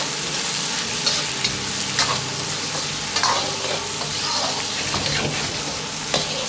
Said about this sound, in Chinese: 接着放入控干水分的香料，翻炒均匀